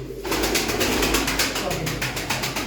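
Tumbler pigeons coo with soft, repeated low throaty calls over a steady background hum, a close, continuous murmur with no clear speech.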